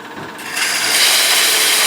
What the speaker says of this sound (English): Then we come back with the sandpaper.